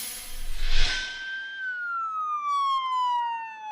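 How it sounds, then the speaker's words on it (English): Police sirens wail to signal the start of a one-mile memorial run in Easley, a loud, steady tone that slowly falls in pitch after a brief rush of traffic noise. "Police sirens signal the start of a 1-mile run"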